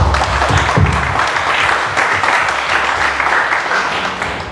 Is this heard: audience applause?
yes